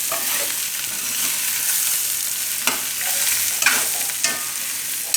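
Aloo thecha, a mashed potato dish, sizzles steadily in a pan while being stirred, with a few scraping strokes of the spoon standing out above the continuous frying hiss.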